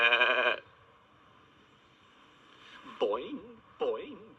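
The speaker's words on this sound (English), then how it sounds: "This is a goat." A goat at a zoo gives a short loud bleat, followed after a pause by two fainter quavering bleats, with no other sounds in between.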